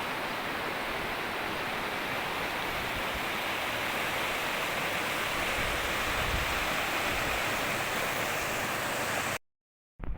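River water rushes past the destroyed Parasido dam in Lebak Gedong: a loud, steady broadband roar that fills nearly the whole stretch, then cuts off abruptly near the end.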